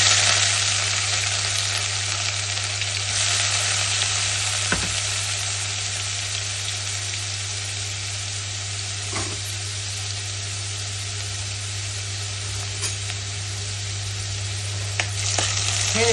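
Soaked rice roasting in hot ghee in a pan, giving a steady, continuous sizzle at a fairly loud, even level, with a few faint stirring scrapes and a constant low hum underneath.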